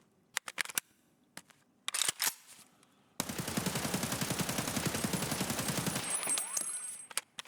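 An AK-101 rifle firing 5.56 rounds in a video game: a few sharp isolated clicks and shots, then a loud sustained full-auto burst of about three seconds with a rapid, even rhythm, ending in scattered clicks.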